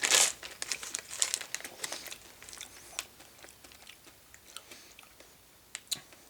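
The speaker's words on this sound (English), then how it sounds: "while I'm chewing these up" Crunchy white hot chocolate M&M candies being chewed up close, a run of crisp crackling bites and crinkles that is loudest at first and thins to sparse crunches toward the end, with no talk.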